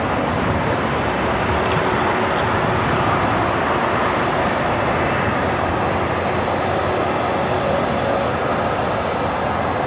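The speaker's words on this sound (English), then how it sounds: "we got that Queen heading down Alpha now, which is a taxiway right in front of our cameras" Boeing 747 airliner taxiing along taxiway Alpha at LAX, a steady broadband jet roar with a constant high engine whine, loud and unbroken, no voices.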